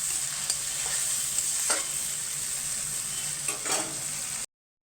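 Ginger-chili paste frying in a pan of oil with onions already browned for a home-style chicken curry, giving a steady close sizzle with a few brief stirring scrapes before it cuts off.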